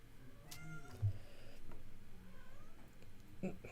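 A house cat meows a few times, faint and drawn out, indoors with people talking around it.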